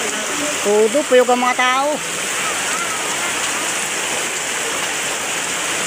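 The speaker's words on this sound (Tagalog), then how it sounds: "Ayan, lakas ng ulan, oh." Steady heavy rain pours down in a constant hiss, with a person speaking briefly at the start over the downpour.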